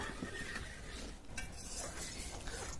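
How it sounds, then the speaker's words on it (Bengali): Milk is stirred continuously in a wok, giving faint, soft scraping and the occasional light clink against the metal under a low background hiss. "এবার আমি সঙ্গে সঙ্গে নাড়তে থাকবো"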